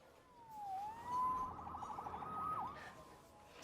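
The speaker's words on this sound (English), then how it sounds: "Saved by the siren." An emergency vehicle siren wails faintly from a distance, its pitch gliding down and up over a few seconds with a short warbling burst in the middle, alone over quiet background noise.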